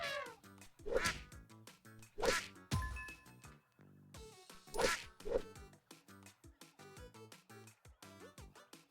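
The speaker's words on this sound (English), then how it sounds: "Why does the turtle quack?" A turtle in the video game Noah Please gives repeated cartoonish quacks over bouncy game music, several sharp quacking bursts in an irregular rhythm, with no talking.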